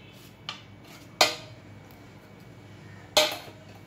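Chopped cashew nuts tumble into a cooking pan with a few sharp clinks and rattles, three short bursts spaced apart against quiet kitchen background.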